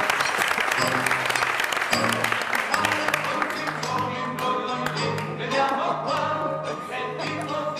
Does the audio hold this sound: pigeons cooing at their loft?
no